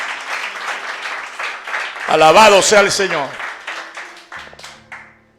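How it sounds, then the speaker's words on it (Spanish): A church congregation applauds during a Spanish-language Sunday morning service, the clapping spread under a preacher's voice and a loud, sung or shouted exclamation before it fades. "Dale un aplauso al Señor, hermano, en esta mañana."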